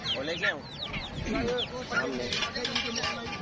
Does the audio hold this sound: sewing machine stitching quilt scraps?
no